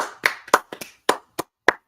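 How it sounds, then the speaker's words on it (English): A small group of people on a weekly wrestling review show applauding themselves: seven sharp, separate claps spread unevenly across the moment, close and fairly loud, with no talking. "Everyone here, give yourselves a round of applause."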